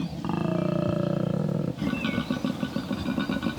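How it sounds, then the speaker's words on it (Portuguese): A koala bellow, a deep rasping roar with a long droning low grunt, then a choppy series of snorting pulses, loud, close and alone. "um urro de um koala pode anunciar sua presença até 1 quilômetro de distância"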